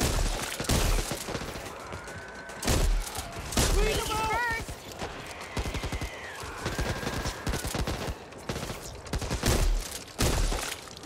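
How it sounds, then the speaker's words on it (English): Gunfire rattles through a Back 4 Blood zombie shooter match, rapid bursts and single shots repeating near and loud across the stretch, with brief voiced callouts in between. "How you like the machine gun, Liv?"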